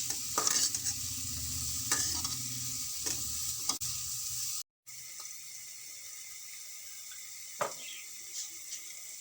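Carrot stir-fried in a pan for carrot rice gives a steady close sizzle with repeated spatula scrapes and stirs, broken by a brief drop-out midway.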